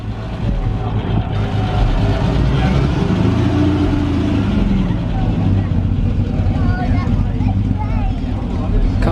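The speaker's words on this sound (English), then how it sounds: "Triumph TR6 leaving now." A steady engine rumble of a Triumph TR6 classic sports car moving off nearby at a classic car meet, continuous and fairly loud, with voices talking over the motor noise throughout.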